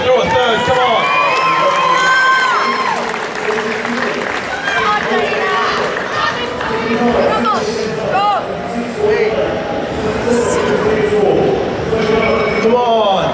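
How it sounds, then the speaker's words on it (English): A crowd at an IPF powerlifting squat competition cheers, shouts and applauds steadily throughout, loud and dense, with voices calling out over the noise. "Give her a round of applause."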